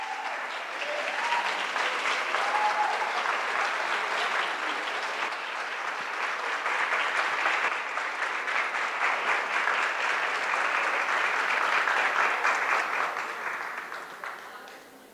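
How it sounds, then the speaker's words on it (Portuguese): A church audience at a Catholic gathering in Brazil gives a sustained round of applause, dense continuous clapping for about fourteen seconds before fading out. "Uma salva de palmas."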